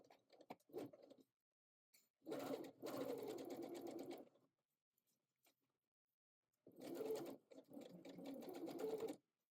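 A sewing machine stitches a wool coat collar in two steady runs of rapid needle chatter, close and clear, separated by a quiet pause, with a few short starts at the beginning.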